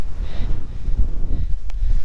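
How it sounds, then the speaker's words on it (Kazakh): Strong wind gusts across the ice during first-ice fishing on the Nura, buffeting the microphone in low, uneven rumbling bursts for a couple of seconds with no voices. "Мына желдің де екпіні масқара"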